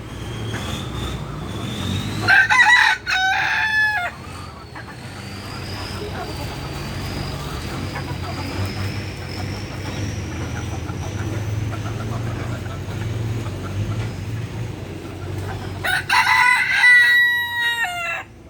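A rooster crows twice, loud and close, once near the start and again near the end, with a steady mechanical hum and outdoor noise filling the long gap between.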